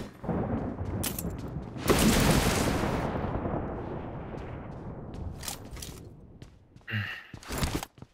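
Loud gunfire from the mobile battle royale game PUBG Mobile: a heavy blast near the two-second mark with a long rumbling decay, followed by scattered sharper shots and bursts toward the end.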